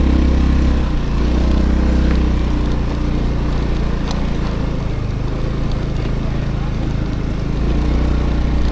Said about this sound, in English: Yes, the bike is slipping while I'm in the sand, guys.